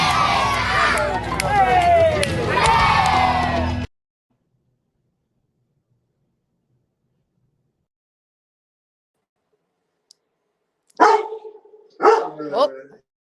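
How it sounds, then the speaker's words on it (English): A dog barks excitedly amid dense, busy background noise during an online talk show, then everything drops to silence before a voice speaks briefly. "my dog is going wild"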